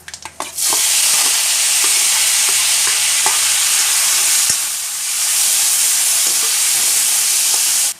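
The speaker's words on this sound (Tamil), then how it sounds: "இப்போ இதுல வெங்காயம் தக்காளி இத சேர்த்துடலாம்." Onion and tomato hit hot oil with popped mustard seeds and cumin: a few quick clatters, then a loud, continuous sizzle that holds steady to the end.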